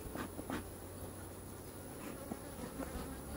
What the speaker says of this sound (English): All these bees around me